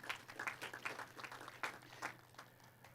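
Graduation audience at Amref International University clapping for the university's partners, a scattered patter of hand claps at moderate distance, fairly light and uneven, with no talk over it.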